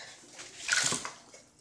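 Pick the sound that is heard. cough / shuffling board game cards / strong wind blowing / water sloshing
water sloshing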